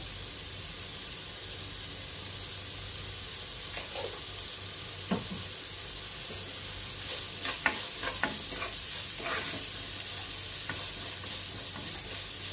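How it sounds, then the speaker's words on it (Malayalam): Onions sautéing in a pan for bread masala give a soft, continuous sizzle, with scattered scrapes and taps of a spoon stirring them, fairly faint and steady throughout. "ഈ സവാളയൊക്കെ നന്നായിട്ടൊന്ന് വഴന്നു വരണം."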